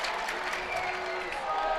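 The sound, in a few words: basketball crowd reacting to a free throw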